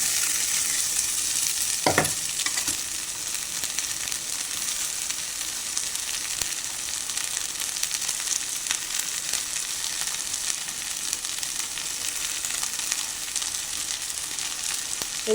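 Okra fries with onions in a pan, a constant bright sizzle with no talk, broken near the start by a single sharp clink of a stirring utensil.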